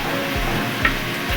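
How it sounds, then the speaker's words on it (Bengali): Onion frying in a pan ahead of a spice paste for an egg curry with coconut milk, a continuous close sizzle with soft periodic stirring scrapes. "পেঁয়াজটা আমার ভাজা হয়ে গেছে।"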